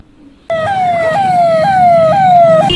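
An ambulance siren bursts on abruptly after a quiet moment, a loud, near wailing tone stepping upward in repeated cycles, with no voices over it.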